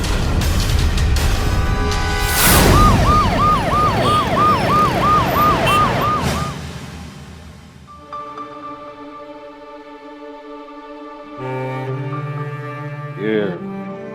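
An ambulance siren in a TV crime drama wails loudly in rapid repeated up-and-down cycles over engine noise, then gives way to sustained musical tones.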